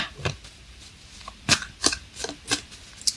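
Tarot cards are shuffled close up, giving a series of crisp, sharp riffling snaps and flicks at irregular intervals over a quiet background, with no speech.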